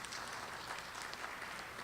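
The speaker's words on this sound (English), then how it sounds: "A round of applause for all our colleagues" Steady applause fills a ceremony hall as an audience honors program colleagues at a spring honors recognition event, dense even clapping sustained throughout at moderate distance with no talk over it.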